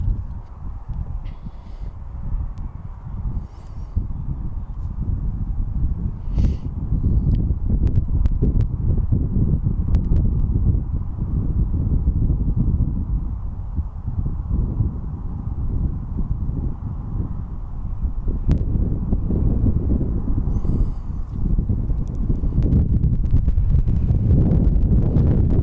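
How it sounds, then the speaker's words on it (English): Strong wind buffets the microphone at a raised airport viewing platform overlooking a runway, a continuous low roar with gusty swells and occasional rustles, no talk. "The wind's picking up as well."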